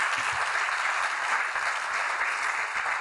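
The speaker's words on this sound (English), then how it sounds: "Another round of applause." A steady round of clapping from the audience at an athletic hall of fame ceremony honoring new inductees, even and moderately loud throughout with no speech over it.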